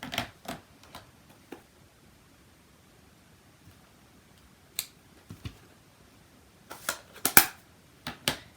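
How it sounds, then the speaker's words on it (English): A rubber stamp presses tree shapes onto paper card, giving sparse sharp taps and soft thuds, a few early, then a quiet stretch before a quicker cluster of close clicks near the end. "we'll just go ahead and we will stamp some trees to match our front"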